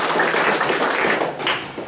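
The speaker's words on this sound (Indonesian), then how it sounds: "tepuk tangan dulu untuk kita ya" A school audience applauds at the opening of a scientific paper event at SMASK Bhaktyarsa. The clapping is loud and close, with a few brief swells, and it fills the short moment with no voices over it.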